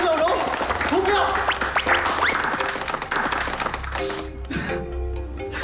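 A crowd applauds at a night-market seafood barbecue contest, the dense clapping running steadily throughout with voices talking over it.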